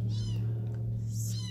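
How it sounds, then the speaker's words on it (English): Several cats meow in the background, with faint high calls rising and fading twice over a steady low hum and some indistinct voices nearby. "You can hear the cats in the background."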